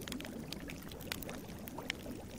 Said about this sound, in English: I have a pot of crystal clear water for the dwarven ale.